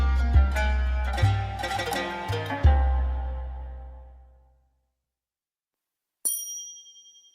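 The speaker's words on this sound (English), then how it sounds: "The kanun is a traditional Turkish harp, and it sounds like this." Kanun, the plucked traditional Turkish zither-harp, sounds a run of bright plucked notes with deep bass resonance that rings out and fades, followed after a silence by a single high metallic ding.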